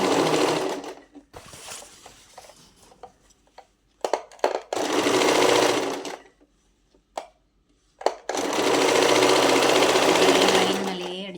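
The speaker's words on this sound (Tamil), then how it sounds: "லைன் மேலேயே அடிச்சுட்டு வந்து கீழே வச்சு தைக்கணும் இல்லையா" Sewing machine stitching along a marked line on fabric, with close, loud bursts of rapid, steady whirring separated by pauses as a person talks between runs.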